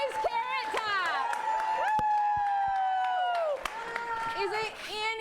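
A late-night comedy show audience cheers and whoops for a favorite contestant's carrot top entry, with a sustained loud shout from the crowd, scattered claps and a host's voice over it.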